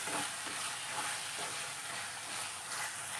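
Chicken is stirred in a pan, a soft, continuous sizzle and faint stirring rustle, quiet and without talk.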